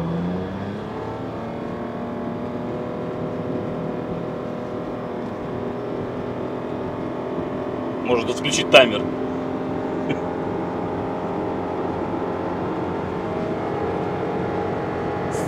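A small 0.9-litre engine in a Toyota Tank drones steadily as it accelerates to about 100 km/h, with someone speaking briefly over the hum and a short clatter midway.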